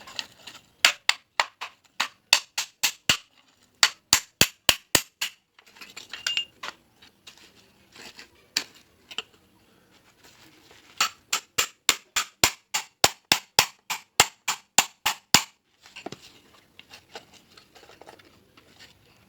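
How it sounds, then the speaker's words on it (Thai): Rapid, evenly spaced hammer blows on metal in two long runs separated by a short pause, close and crisp, hammering a part out of a water pump motor during disassembly. "มันต้องตอกให้นี่ออกนะครับ"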